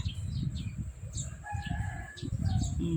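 A rooster crows nearby in a rural Thai yard, its drawn-out calls rising over a steady low rumble of background noise and other clucking fowl.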